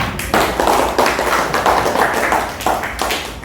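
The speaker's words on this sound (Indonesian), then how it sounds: "Tepuk tangan dulu lah." Students in a high school classroom clap together in a burst of quick, rhythmic handclaps, loud and close, with no talking over it.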